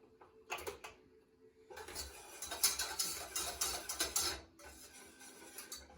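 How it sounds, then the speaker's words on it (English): Metal whisk clattering rhythmically in a pan as flour is worked into turkey drippings for a homestead-style roux gravy, a steady run of quick scraping ticks building in the middle and easing off, no talking. "adding a little bit of flour, homestead style, no measuring, whisking this into a paste"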